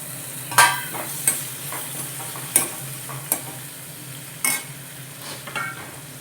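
Ridge gourd curry frying in a pan, a steady sizzle broken by about six sharp scraping strokes of a spoon stirring, close and clear with no talking.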